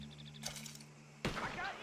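Gunfire from a barn in Red Dead Redemption 2: a short sharp burst, then a louder, denser stretch of shots and commotion near the end, over steady low game ambience.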